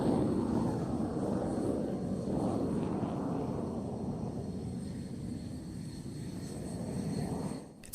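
An F-16 and a JF-17 fighter jet manoeuvring overhead produce a steady, broad roar that holds for several seconds before dipping near the end, heard from a distance with no voices.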